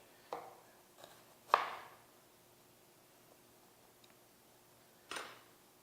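A knife cuts onion into julienne strips on a board, giving a few scattered, sharp chopping taps with quiet pauses between them, fairly close and without talk.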